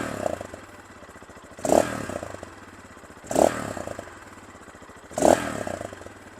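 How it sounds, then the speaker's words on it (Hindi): A Zonsen Carrera 250 air-cooled motorcycle engine idles with a muffled, ticking note and is blipped three times, each short rev swelling and falling back to idle, heard close by with no talk. "बड़ी ना एक मफल्ड किस्म की साउंड है इस मोटरसाइकिल की"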